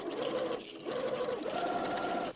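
A sewing machine stitches a garment up close in steady whirring bursts, with a short pause between runs.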